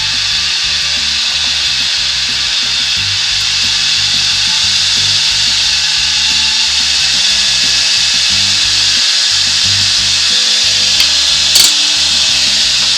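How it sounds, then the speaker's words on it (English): Wood lathe spinning at speed while a tool roughs down a banksia pod, a loud continuous hissing, rasping cut with an even rotational hum and no pauses, close to the listener. "So I'm going to speed the lathe up"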